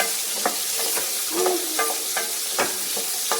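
Onions fry for a bitter gourd curry with a steady, close sizzle, while a spoon scrapes and stirs the pan at regular intervals.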